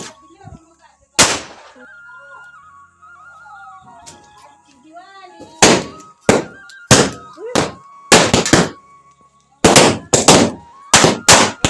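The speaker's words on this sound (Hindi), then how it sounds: "क्या ही धमाका था" Diwali firecracker bombs in a hillside village go off in a rapid string of sharp, loud bangs, one early blast followed by a dense cluster of explosions, with people talking and whistling fireworks in between.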